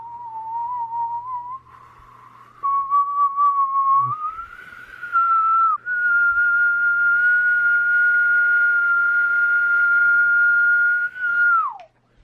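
A person whistles a long, wavering tune that slides upward in steps and settles into a sustained steady tone before dropping off at the end, clear and close with no talking.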